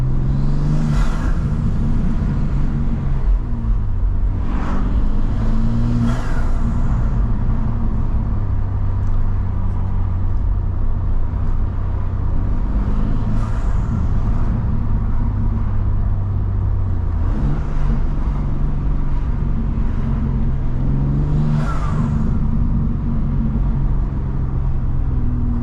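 A BMW M2 pulls hard, its engine intake droning loudly up through repeated gear pulls, pitch climbing and dropping with each shift over a steady road roar from inside the car.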